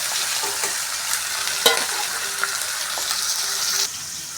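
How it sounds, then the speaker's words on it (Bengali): Pieces of katla fish fry in a pan with a bright, steady sizzle, while stirring adds light clinks and scrapes close by. The sizzle eases slightly toward the end, and nobody speaks. "মাছের পিস আর কয়েকটা রয়ে গেছে, এগুলো ভেজে নেব।"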